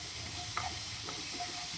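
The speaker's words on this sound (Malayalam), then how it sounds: "എന്നിട്ട് ആ പച്ചമണം മാറണ വരെ ഒന്ന് വഴറ്റുക" Onion, green chili and ginger for a masala omelette sauté in a pan with a quiet, steady sizzle and a couple of light stirring scrapes, brief and close, no voices.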